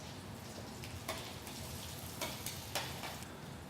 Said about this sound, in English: those have been sizzling off for about 3 or 4 minutes